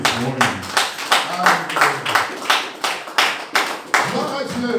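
Rhythmic group clapping from a church congregation acclaiming the Lord, a steady run of about a dozen claps in time, with voices and cheering mixed in beneath.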